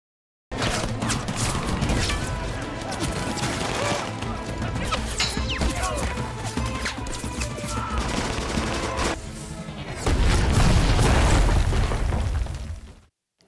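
War film battle at an American troops' camp, with dense rapid gunfire, crashing impacts and explosions sustained throughout, swelling into a heavier, louder barrage near the end before cutting off.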